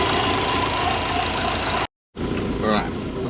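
A Subaru engine fitted with a custom 4-inch turbo intake idles close by with a steady rumble, cut by a brief dropout, with a whistling rise in the later part.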